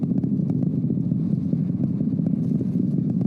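Rocket main engines roar during a crewed launch headed for lunar orbit. The thunder is low, dense and continuous, and holds at a steady level throughout.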